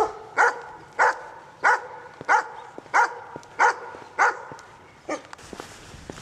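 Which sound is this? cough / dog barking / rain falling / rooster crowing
dog barking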